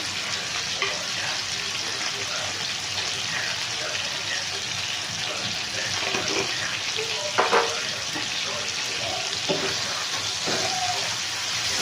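Tomatoes cook with turmeric in a frying pan, a constant close sizzle with occasional stirring scrapes and clinks, while a voice speaks faintly in the background.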